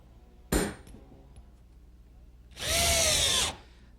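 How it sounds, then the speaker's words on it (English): A square chisel squaring the corners of a mortise in wood for a greenhouse frame, with a sharp knock followed by a loud, sustained grinding burst of about a second, close by. "Using this square chisel makes fast work out of squaring up each corner."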